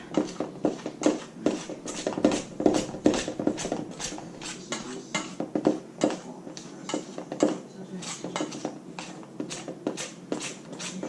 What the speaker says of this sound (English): You keep cutting in until it's all incorporated and you don't have big chunks of butter floating around.